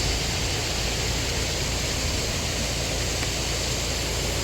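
Steady, loud rush of water pouring continuously into a canal lock on the Wey and Godalming Navigation, a broad hissing roar with no pauses and no voices.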